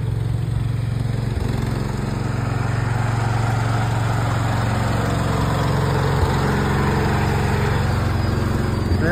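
A 1998 Mack Midliner truck engine runs steadily at a loud, close idle, a constant low diesel rumble that goes on for the whole stretch with no voices over it.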